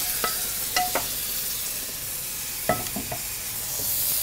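Rice for pulao fries in a pan with a steady sizzle, and a few sharp clinks and scrapes of a spoon stirring against the pan sound close by, with no talking.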